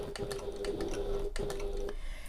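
A sewing machine stitches a pocket corner in fabric, running in a close, steady mechanical whir with rapid needle ticks, pausing briefly, then starting again before stopping.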